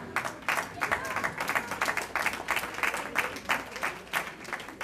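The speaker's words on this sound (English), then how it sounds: "give your parents and guardians a round of applause right now" A crowd at a youth watershed science and leadership awards ceremony claps steadily for parents and guardians, a dense, sustained round of applause with no voices over it.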